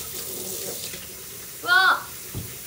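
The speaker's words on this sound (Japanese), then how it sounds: "洗い物してる。" Running tap water while dishes are washed in a home kitchen sink, a brief close splash and gush that swells for under half a second above a low steady background, with a faint knock afterward.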